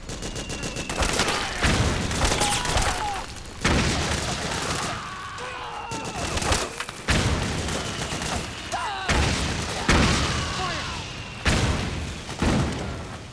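Heavy gunfire in the PlayStation 3 game Metal Gear Solid 4: Guns of the Patriots, with repeated loud bursts of automatic fire and booms while soldiers shout in the background.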